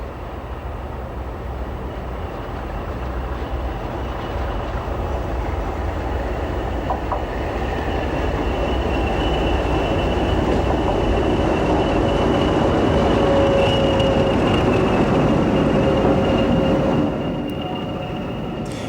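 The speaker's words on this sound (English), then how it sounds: "Here, the train passes the recently refurbished station at Mortimer on its way to Reading." A train hauled by Class 20 locomotives rumbles through Mortimer station on its way to Reading, a steady rolling roar that builds as it nears, with faint wheel squeal and rail clatter, then eases away.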